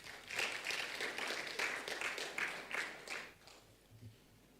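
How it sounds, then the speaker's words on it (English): Conference audience at a nurses' and midwives' meeting gives a short round of applause, a few seconds of clapping from a modest crowd that fades out, fairly faint and somewhat distant, with a brief low murmur at the end. "Another round of applause for him, please."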